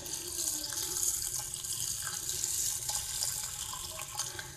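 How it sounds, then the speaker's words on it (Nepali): Water pours steadily from a tap into a pot to soak black lentils for Nepalese bara patties, a soft continuous splashing rush heard alone and fairly faint. "एउटा भाँडा लिएर हजुर यो भिज्ने गरी पानी हाल्नु हुन्छ होला"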